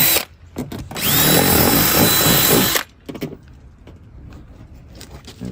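A power drill enlarging a hole in a metal bumper bracket on a Lexus IS300, one loud close whirring burst of about two seconds, followed by faint clicks and handling noises.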